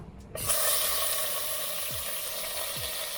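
Butter hits a hot pan and sizzles steadily for a mushroom and egg soup, with a sudden onset followed by a constant bright frying hiss and a few soft scraping stirs, with no talking.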